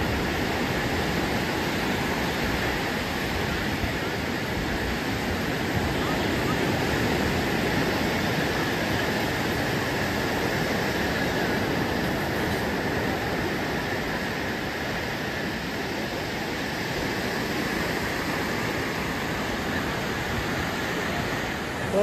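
Sea waves roll in at Juhu beach at night as the tide rises, a continuous broad wash of surf with no distinct breaks, steady and fairly loud throughout.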